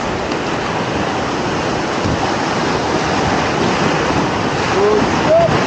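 Continuous roaring whitewater in the Class IV Giarsun Gorge, a loud broadband rush of rapids and a nearby waterfall with wind buffeting the microphone, steady throughout with a faint voice near the end.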